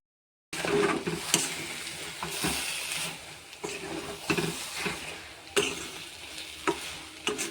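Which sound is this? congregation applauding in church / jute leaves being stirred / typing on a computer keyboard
jute leaves being stirred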